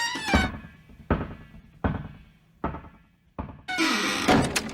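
A door opens in a Doctor Who audio drama with a run of four or five heavy, close thuds spaced about a second apart, each fading out, then a burst of broad rushing noise at the end.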